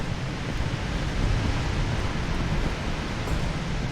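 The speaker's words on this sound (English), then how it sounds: "Boy, it's heckin' windy." Steady gusting wind blows through Dust: An Elysian Tail, a broad, continuous rushing noise that swells slightly in the middle and never lets up.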